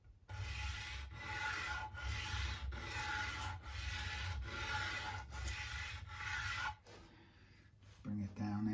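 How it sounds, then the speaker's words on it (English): Rhythmic rasping strokes of end-sanding a guitar nut on a PRS Bernie Marsden SE guitar, about a dozen back-and-forth passes at a steady pace, close up, ending with a brief pause and some handling. "I'm going to do a little bit of end sanding."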